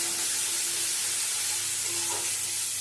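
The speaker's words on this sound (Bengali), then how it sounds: "ভালো করে মশলাটা কষিয়ে নিতে হবে" Mustard-based spice paste frying in a pan for a Bengali raw mango dish, a faint, steady sizzle and hiss close by, with no talking.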